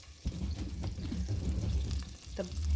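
Butter bubbling and sizzling in a pan while sausage pasta cooks, a close, busy crackle with a low rumbling undertone that swells slightly.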